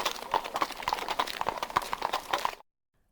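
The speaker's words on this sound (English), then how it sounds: "Queen Ani herself rode to the mountains to rescue the king." A horse's hooves clip-clop in a brisk, steady trot, close and clear, continuing for a couple of seconds before cutting off abruptly into silence.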